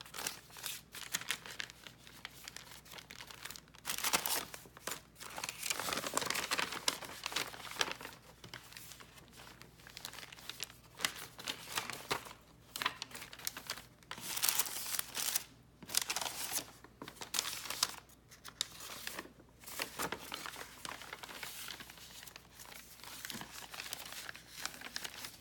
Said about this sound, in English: Here's where I'm going to insert my envelope.